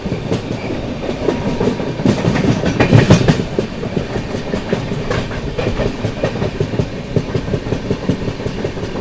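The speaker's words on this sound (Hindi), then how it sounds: "चले निकल के अपनी जीटी एक्सप्रेस आमला जंक्शन से" The 12615 Grand Trunk Express runs between Amla Junction and Betul, with steady clickety-clack of wheels over rail joints and a loud continuous rumble throughout, swelling briefly early on.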